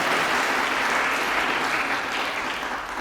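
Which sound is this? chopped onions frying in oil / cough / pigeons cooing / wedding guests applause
wedding guests applause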